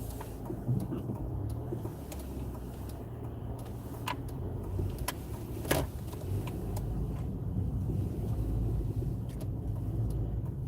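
A car drives along a suburban road during a driving test, heard from inside as a steady low engine and road rumble with occasional faint clicks, no speech.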